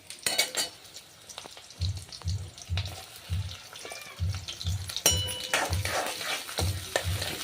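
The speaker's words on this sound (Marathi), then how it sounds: "सगळं टाकून घेणार आहे छान मिक्स करून घ्यायचं सगळं" Onion, tomato, peanuts and potatoes are stirred in a pan, with a steady run of soft rhythmic scrapes over a faint sizzle and occasional louder clinks, close by and without talk.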